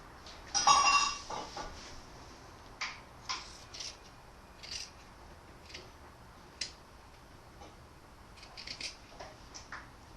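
Scissors snip through T-shirt fabric along the side seam, leaving a few faint, scattered crisp cuts with quiet pauses between them and no talking.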